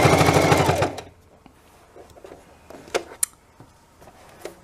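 A sewing machine stitches a throw pillow in a loud, steady mechanical run for about a second, then stops, leaving only faint handling clicks and small knocks.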